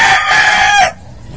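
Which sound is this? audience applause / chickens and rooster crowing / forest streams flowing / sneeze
chickens and rooster crowing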